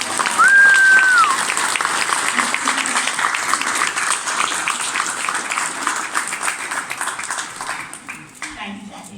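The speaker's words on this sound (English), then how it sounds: "It says pause for applause and that happens" An audience at an Enable Scotland event applauds in a sustained round of clapping that tapers off toward the end, with brief voice sounds early on.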